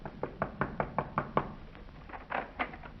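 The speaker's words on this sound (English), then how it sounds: "We went over to Red's place and knocked on his door." Knuckles rap on a door in a vintage radio crime drama. A steady run of about seven firm knocks is followed by a brief pause and a few softer, looser raps, all fairly close and dry.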